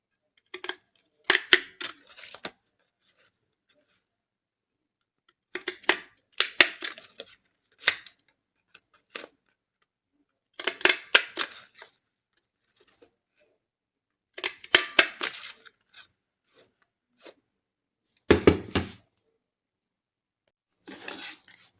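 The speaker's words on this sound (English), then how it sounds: "And just continue punching." A craft paper punch bites through paper to make small doilies, producing clusters of sharp crunching clicks in separate bursts, with quiet pauses between them.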